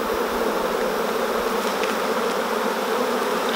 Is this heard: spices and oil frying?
no